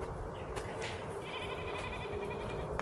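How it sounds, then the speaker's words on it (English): Faint bleating of goats in the distance, a few wavering calls over a soft outdoor background hiss. "You hear the goats?"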